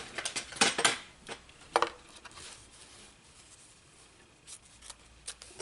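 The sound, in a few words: scissors cutting out stitched fabric pillow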